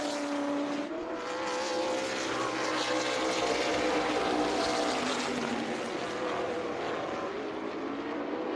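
A pack of race cars circles Dells Raceway Park on warm-up laps before the Falloween 150, a continuous broad engine roar at mid distance with a slowly shifting drone and no break, no voices over it.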